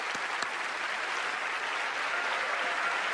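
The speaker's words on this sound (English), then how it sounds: "Give him a round of applause" Magic show audience applauds a volunteer heading to the stage, an even, continuous wash of clapping heard from a moderate distance, steady in level throughout.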